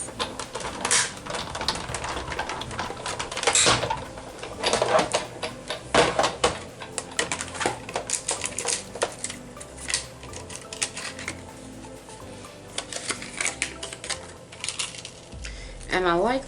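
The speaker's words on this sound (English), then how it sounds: "So I'm going to go ahead and die cut this." A die cutting machine cuts a piece of cardstock, producing close, uneven runs of clicking and ratcheting as the plates feed through, with a voice talking at times.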